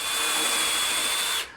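Power drill pre-drilling screw holes in a wooden sink base cabinet: a loud, steady high-pitched whine held close for over a second, then cutting off abruptly.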